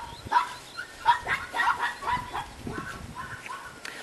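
A small puppy, a young Laika, gives a series of high, thin yips and barks, fairly faint, in irregular bursts against a quiet background.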